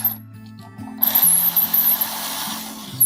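A screwdriver drives screws into an electrical receptacle with a few sharp, ratchety bursts of turning and scraping. A low steady hum sits beneath, and there is no talk.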